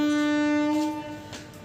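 A train passing a station near a house sounds a loud, steady horn tone that holds for about a second and then fades under low rumbling background noise.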